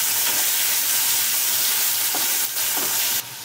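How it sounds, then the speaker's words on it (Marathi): Onion and tomato fry in a pan for a spicy potato curry, a loud, close, steady hiss of sizzling with a few soft stirring clicks. "आता आपण त्याच्यामध्ये ना एक टमाटा तो टाकतोय, तो पण पूर्ण असा परतून घ्यायचा।"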